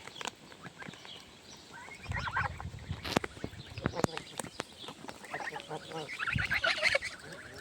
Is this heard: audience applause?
no